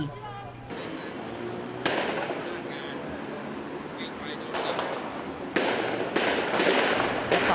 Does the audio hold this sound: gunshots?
yes